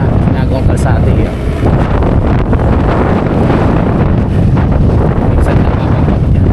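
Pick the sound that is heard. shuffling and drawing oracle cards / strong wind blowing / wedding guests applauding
strong wind blowing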